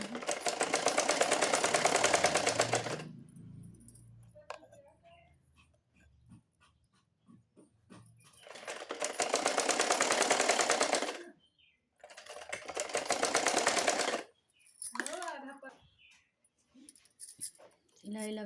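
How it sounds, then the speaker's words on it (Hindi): A sewing machine stitching a belt runs in three loud, steady bursts of a few seconds each. Quieter pauses between the runs carry light handling noises and some talk. "इसी मशीन को चलाते हुए इनको लगाना है।"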